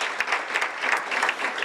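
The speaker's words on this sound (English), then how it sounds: "let's give a round of applause for everyone that we've recognized" An audience at a business luncheon gives a round of applause for the sponsors just recognized, steady many-handed clapping with sharper individual claps popping out, moderately loud and unbroken.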